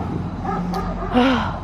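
Several dogs bark and yip in a garden, a brief cluster of barks near the middle and a louder bark and whine toward the end, fairly close and with no talk over them.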